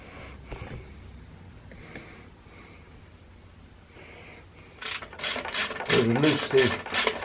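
A ratchet works loose the lower shock absorber bolt on a Honda Bros motorcycle; faint clicking and breathy noise give way to a burst of rapid, loud ratcheting clicks near the end.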